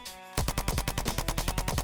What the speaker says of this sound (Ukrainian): Ти стріляєш в нього.